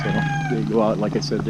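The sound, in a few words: cat meowing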